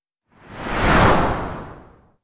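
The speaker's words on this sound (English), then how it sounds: "You have a whoosh sound effect." A single processed whoosh effect, compressed for extra punch, swells up smoothly, peaks near the middle and fades away over about two seconds, loud and alone with no talking.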